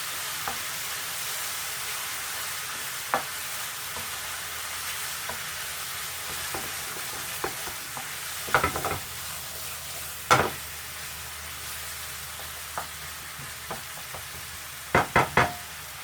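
Steady sizzling of ginger frying in a pan, with occasional sharp knocks and scrapes of a utensil stirring.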